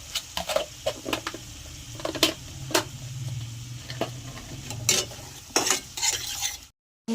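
Spice masala with sugar is stir-fried in a pan for aloo dum, with a soft frying sizzle under repeated scraping and clinking strokes of a spatula, ending in a brief silence.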